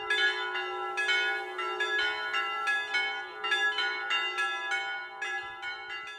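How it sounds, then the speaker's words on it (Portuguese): Four church bells swinging together, rung in swing after a midday toll, producing overlapping bright metallic strikes in an irregular, continuous cascade with long ringing tones, clear and unaccompanied by voices. "os 4 sinos tocando por balanço"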